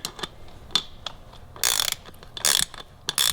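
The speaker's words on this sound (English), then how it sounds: "And then you're just gonna grab your 10mm wrench" A 10mm wrench tightens nuts while an awning is fitted, giving close, sharp ratcheting clicks in irregular short bursts, with several louder scraping rasps between quieter taps.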